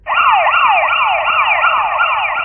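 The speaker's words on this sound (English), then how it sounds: "more sirens" An emergency siren wails loud and close, sweeping up and down in rapid, repeating cycles over a low rumbling background, with no voices.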